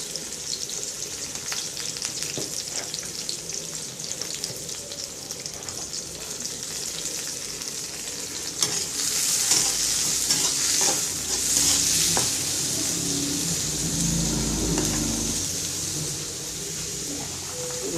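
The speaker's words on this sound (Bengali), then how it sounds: "চিংড়ি মাছ ভুনা করবো, পেঁয়াজ, কাঁচামরিচ দিয়ে দেবো।" Prawns fry in a pan with onion and green chili as a dense, steady sizzle runs throughout, with scraping stirs and brief louder surges partway through.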